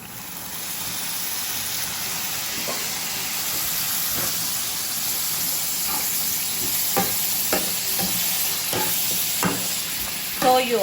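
Bean sprouts sautéing in a pan with garlic and onion, a steady close sizzle running throughout, with intermittent scraping clicks from stirring growing more frequent toward the end.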